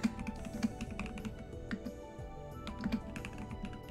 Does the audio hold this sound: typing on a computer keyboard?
yes